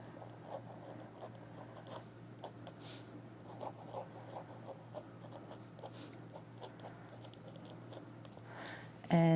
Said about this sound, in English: So I'm going to start off with the Painter's Ultra Fine, and I'm just going to write with it.